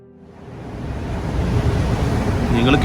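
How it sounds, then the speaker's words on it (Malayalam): Heavy sea waves and strong wind batter a container ship in a storm with heavy rain, a dense broadband roar that swells steadily louder through the clip, with no distinct container knocks standing out. "നിങ്ങൾ കേട്ടുകൊണ്ടിരിക്കുന്ന ശബ്ദം കടലിൻ്റെയും കാറ്റിൻ്റെയും കണ്ടെയ്നറിൻ്റെ"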